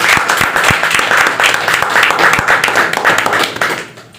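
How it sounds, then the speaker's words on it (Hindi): A crowd applauds loudly with dense, steady clapping that continues for several seconds before tapering off at the end. "तो अपनी माँ के लिए जोरदार तालियां मारो।"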